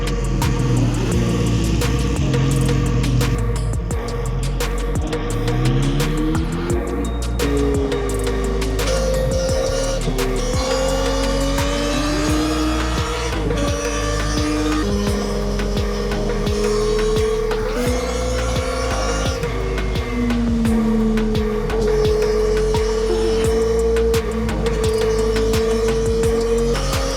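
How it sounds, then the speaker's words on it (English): A middleweight supersport motorcycle engine screams at high revs, rising and falling through sustained loud pitch sweeps with repeated throttle changes, close and continuous. "a screaming, high-revving engine"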